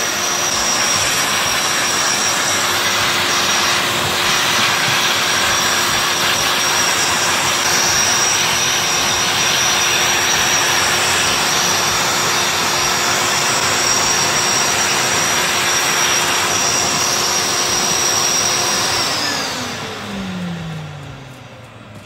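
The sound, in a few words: Libelle cleaning robot blowing air, used as a compressor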